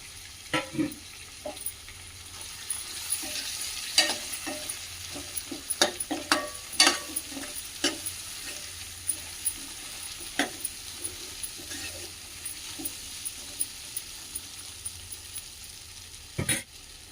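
Potato pieces and onion frying in oil, a low continuous sizzle broken by frequent sharp clicks and scrapes of a spoon stirring against the pan, close and moderately quiet throughout.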